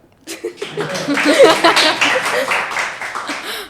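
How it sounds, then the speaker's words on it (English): Studio audience on a student interview show clapping at a guest's exam results, starting after a short pause and building into steady applause mixed with some chuckles and talk. "would you guys like to clap?"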